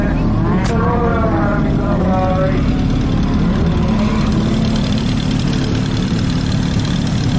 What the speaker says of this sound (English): The rattling is the carburetor.